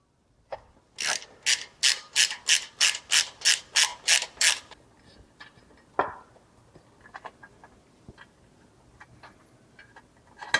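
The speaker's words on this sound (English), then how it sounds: "we need to remove these breather bolts here" A ratchet wrench backs out 7/16 breather bolts on a Harley-Davidson Road Glide: about a dozen quick, evenly spaced clicks, close and crisp, then a few scattered metallic ticks and taps.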